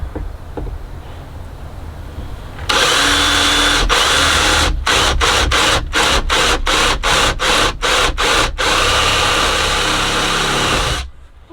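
A power drill countersinks screws into furring strips inside a van, with a loud steady whir broken by a rapid series of short bursts and stops before it winds down, close and without talk.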